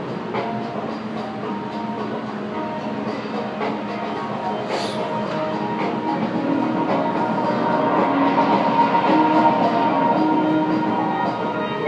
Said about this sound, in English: The tram is now departing. Please hold on to a handrail.